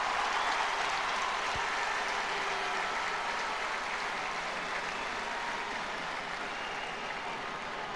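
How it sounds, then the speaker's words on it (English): Crowd at the 2010 Ulster Gaelic football final between Tyrone and Monaghan applauding and cheering after a score from play, a dense steady roar of claps and voices throughout, stadium-wide and loud. "Crowd reaction will tell you, and they like it."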